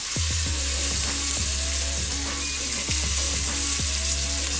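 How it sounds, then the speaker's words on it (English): Continuous loud sizzling of oxtail searing in a hot pan, with repeated clunks and scrapes as pieces are placed and moved. "that's the noise you want to hear. When you place the oxtail in the pan"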